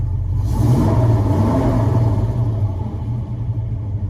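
A 1977 Chevy K10 truck engine, warmed up and running with an exhaust leak, gives a steady, loud, close low rumble with a slight rise early on and no voices.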